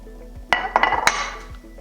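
Chicken pieces are dropped into a bowl, giving three or four sharp clinks and knocks close by in quick succession, with quiet in between and no talking.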